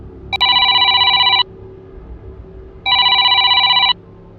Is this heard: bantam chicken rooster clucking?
no